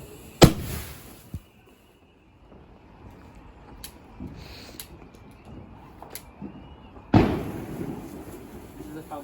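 Bonfire Night fireworks going off outdoors: two sharp, loud bangs several seconds apart, with fainter crackles and pops in between over a quiet background.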